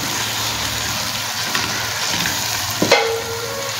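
Food fries in a pan, a loud, steady sizzle running throughout, with a sharp clank of the spoon against the pan near the end and no talking.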